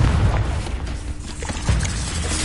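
A Confringo fire spell detonates in Hogwarts Legacy, heavy booming blasts with low rumbling impacts and a second burst midway, loud and close in a game soundscape.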